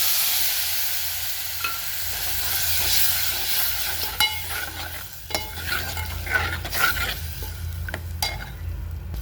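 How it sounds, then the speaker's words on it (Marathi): Tamarind pulp sautéing in a spiced oil tempering for a sweet-sour tamarind-jaggery aamti, a steady close sizzle with repeated spoon stirs and sharp scrapes against the pan, no voices. "आता चिंचेचा कोळ टाकून आपण छान थोडंसं असं परतून घ्यायचं"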